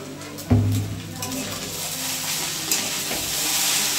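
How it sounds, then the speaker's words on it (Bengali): Chow noodles frying and being stirred in a pan, a continuous bright sizzle with a sharp clatter of the utensil early on and another scrape midway. "মিনিট 5 একটুখানি চাউটাকে সুন্দরভাবে ভেজে নেব।"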